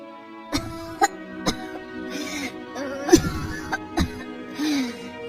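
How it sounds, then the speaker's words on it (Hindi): A woman coughs repeatedly in short harsh bursts, several spaced coughs with throat clearing and strained breaths between them, close and fairly loud. "ये कैसी खांसी है?"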